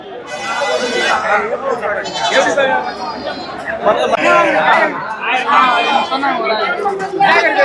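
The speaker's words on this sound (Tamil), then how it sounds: "செம்மறி ஆடு இன்னைக்கு செம்மறி ஆடு நிறைய வந்திருக்கு" Sheep bleat loudly and repeatedly at a crowded goat and sheep market in Ranipettai, their wavering cries rising over constant nearby chatter and crowd babble.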